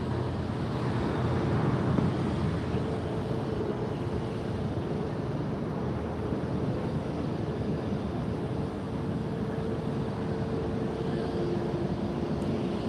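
A JetBlue jet airliner roars steadily during its takeoff at Fort Lauderdale airport, a loud, sustained broadband rumble with a faint whining tone that holds level throughout, with no voices heard.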